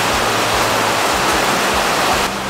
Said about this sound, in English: We are in a tin building right now and it is raining very, very hard.